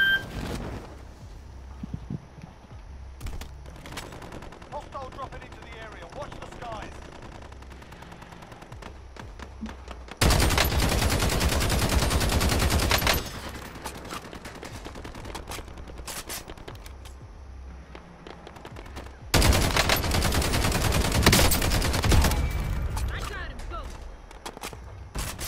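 Bursts of automatic gunfire during target practice in a video game, two dense loud stretches of rapid shots separated by quieter scattered shots and ambient game noise, with a voice talking at times.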